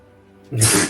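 A single short, sharp sneeze bursts out after a moment of quiet, close and fairly loud.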